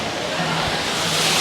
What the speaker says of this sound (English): A little waterfall action going on here.